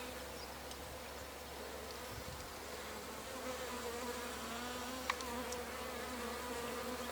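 A steady, dense buzzing of many honey bees close by at a swarm trap, continuous hum with no talking.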